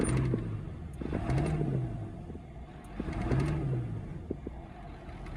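A 7.3 Powerstroke diesel in an OBS truck, fitted with an upgraded air filter and fuel spring, revs in two quick swells over a low, fairly quiet rumble.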